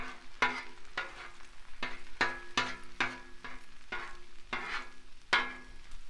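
An egg being scrambled on a Blackstone griddle, a metal spatula scraping and tapping in a steady rhythm of about a dozen strokes over a soft sizzle, close and moderately quiet, no talking.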